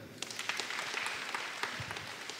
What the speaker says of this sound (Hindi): पल्ली की ओर से पुनः आभार व्यक्त करते हैं तालियों द्वारा।